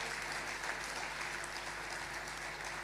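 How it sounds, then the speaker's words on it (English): An audience at a technology summit gives a steady, continuous round of applause, dense and even throughout with no pauses. "Can we please give him another round of applause?"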